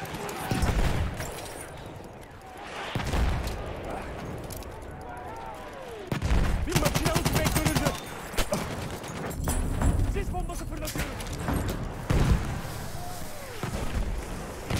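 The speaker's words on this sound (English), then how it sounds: "And the mortars." Mortar and gunfire in the video game Battlefield 1, with repeated heavy booms and crackling bursts of shots at varying distances, mixed under frequent excited talking from a player.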